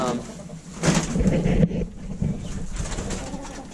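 Pigeons coo inside a dark bird house on a snowy homestead morning, soft low cooing amid rustling and shuffling, with some flapping nearby.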